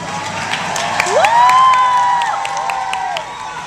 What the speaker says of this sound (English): My lords and ladies, raise a cheer for these two young squires.